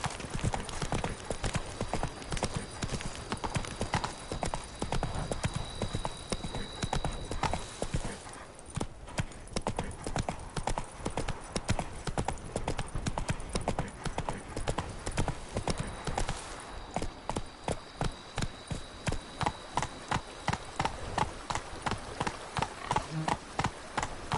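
Roach the horse galloping in the video game The Witcher 3: steady, rapid hoofbeats in a continuous rhythm for over twenty seconds, close and clear, with a brief change in the rhythm partway through.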